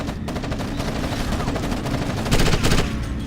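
Rapid gunfire in the Xbox shooter Ghost Recon Advanced Warfighter comes as dense, close, loud bursts of overlapping shots, swelling into a heavier volley near the end.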